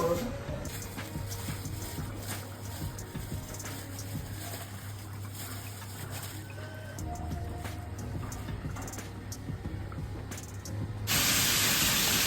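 A steady stream of tap water hisses and splashes while chicken and mutton are washed in a home kitchen, constant and close, ending in a louder rush of spray.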